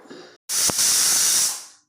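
A pressure cooker cooking beef lets off its whistle in one loud, sustained hissing blast of steam lasting over a second before it tapers away, after a short faint sound and a brief gap.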